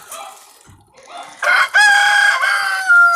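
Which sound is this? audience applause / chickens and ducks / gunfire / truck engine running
chickens and ducks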